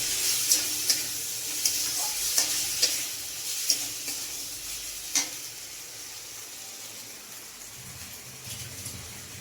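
Spiced potatoes and pointed gourd fry in a pan with a steady, close sizzle, while a spoon stirs them with several sharp metallic taps early on before the sizzling continues alone.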